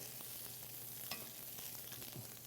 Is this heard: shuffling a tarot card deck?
no